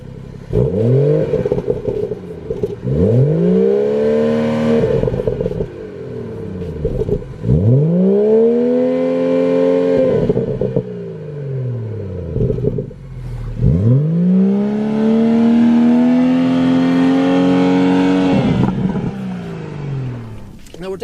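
A BMW 340i Sport xDrive accelerates repeatedly, its engine rising in four distinct sweeps separated by gear shifts and short lulls, moderately loud from inside the cabin, with the last pull the strongest.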